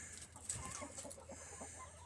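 Chickens cluck softly at close range in a backyard coop while eggs are being collected, several short irregular clucks and murmurs over a quiet background.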